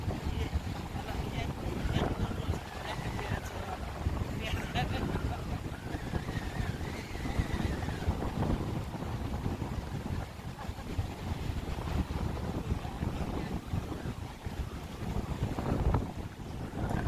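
A fishing boat runs at sea off a beach in Pemalang, with a steady engine and hull rumble under heavy wind buffeting the microphone and faint surf, continuous for the whole stretch, with voices faintly present.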